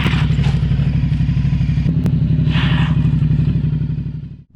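Aprilia Shiver 900 motorcycle riding past, a loud steady engine drone with a throaty mid-range pulse, a brief clatter midway, then fading out abruptly at the end.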